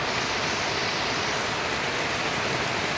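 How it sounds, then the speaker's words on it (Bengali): Steady rain falls outdoors as a continuous, even hiss with no breaks or voices. "আর ওইদিকে বৃষ্টি পড়ছে।"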